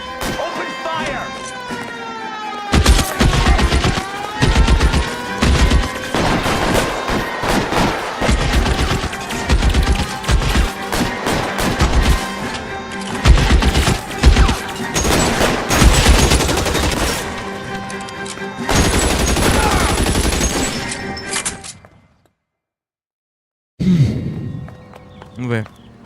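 Shootout in the video game L.A. Noire, with loud rapid bursts of gunfire, dense volleys and single shots over roughly twenty seconds, mixed with music, then a sudden silence before a brief final burst.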